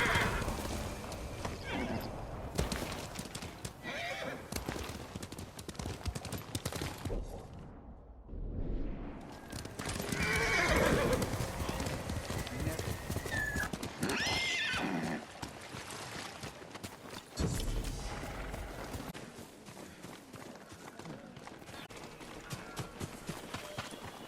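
A horse in the video game Ghost of Tsushima gallops with quick clip-clop hoofbeats and lets out loud neighs and whinnies, with swishing movement sounds and some speech over the action.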